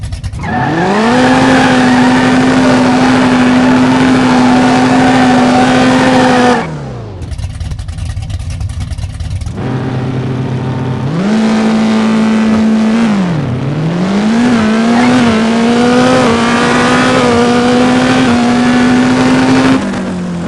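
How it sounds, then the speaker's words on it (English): An all-motor drag race car launches hard and screams up through the gears, a very loud, close, high-revving engine with sharp shifts and a brief lull before it winds up again. "I'm going to turn the launch RPM up just a little bit, make it leave harder"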